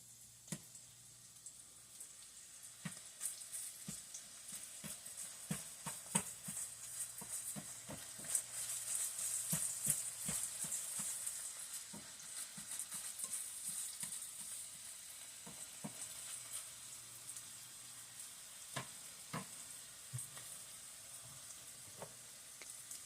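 Ground turkey and vegetables sizzle quietly in a pan, a soft steady frying hiss broken by scattered crackles and pops, with occasional clicks of stirring, no talking.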